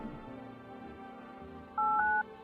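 A short in-game phone keypad tone near the end, a steady dual beep after a low murmur, clear and close.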